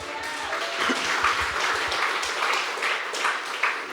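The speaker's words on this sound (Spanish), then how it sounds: "Fuerte aplausos" Congregation applause at a church service, a dense steady wash of many hands clapping that carries on evenly with a few sharper claps near the end.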